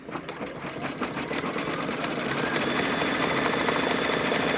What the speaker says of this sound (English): So before you lay the fabric down, it's going to stitch the little antenna.